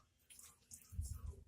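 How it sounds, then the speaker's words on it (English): Hot pasta water is drained from a pot of penne, a faint, close rush of pouring water that swells and gurgles toward the end, all very quiet. "now I'm going to drain the pasta"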